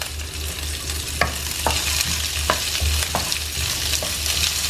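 Red chilies sizzle steadily in hot oil while a spoon stirs them, with a few distinct scrapes and taps against the pan over a constant close fry, no voices present.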